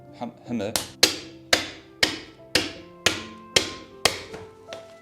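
A hammer strikes dragonstone rocks in eight sharp, evenly spaced knocks, each ringing briefly and fading before the next, close and clear, after a softer rustle at the start.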